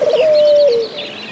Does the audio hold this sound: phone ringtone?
no